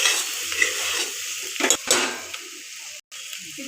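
A spoon scrapes and stirs a frying mixture with turmeric in a metal pan, with steady sizzling and a few sharper clinks of utensil on pan, close and fairly loud.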